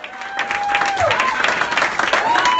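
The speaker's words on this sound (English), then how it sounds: "Tony's returning the favor, getting a round of applause for Brody on the way out." A crowd claps in a steady wash of applause while a voice talks over it and a long tone sounds in the background.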